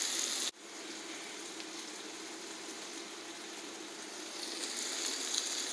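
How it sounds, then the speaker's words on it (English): Cut-up hamburger frying in a pan with green pepper, celery, onion and garlic, giving a steady close sizzle and crackle that holds through the whole stretch after a brief sharp break near the start, with no talk. "there is the hamburger cut up in small pieces, frying"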